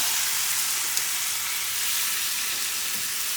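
Mushrooms fry in a pan beside steak in a continuous, bright, hissing sizzle that stays even and close for the whole stretch, with no talking over it.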